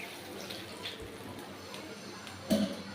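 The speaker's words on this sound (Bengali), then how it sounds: "দেখুন জল দিয়ে দিচ্ছি।" Water is poured into a pot of marinated crab with ginger and garlic, a steady, faint trickle running throughout, with a brief louder clatter near the end.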